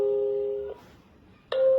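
An electronic chime from a wired Wi-Fi video doorbell camera sounds when the bell button is pressed: a steady tone, a short pause, then a second tone, clear and close.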